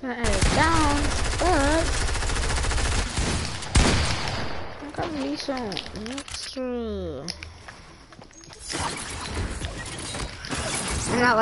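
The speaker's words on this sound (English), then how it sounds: "I can hear the laggy shooting." Choppy, laggy gunfire in a PS4 video game rattles in dense rapid bursts almost throughout, with voices talking over it.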